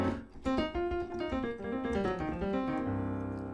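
Piano notes played in a lively blues scale run, with a low bass chord rolling underneath, close and moderately loud.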